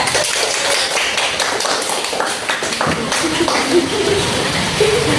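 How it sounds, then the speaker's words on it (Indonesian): Primary school classroom applause for a student group: steady scattered clapping from many hands filling the room, with children's voices mixed in. "beri aplaus untuk kelompok 3"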